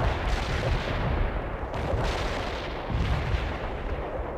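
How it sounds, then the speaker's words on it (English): Incoming artillery in the real-time strategy video game World in Conflict pounds down as a continuous rumble of heavy, booming impacts, loud and dense with no voices. "You have incoming artillery again, Romanov."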